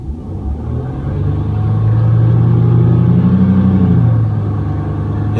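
A car engine with a vacuum leak idles with a low rumble, then revs up, holds a higher steady note for a couple of seconds and drops back toward idle. It is close and fairly loud, with no talking.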